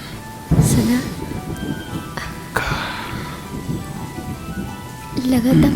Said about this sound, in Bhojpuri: लगातार बारिश होता।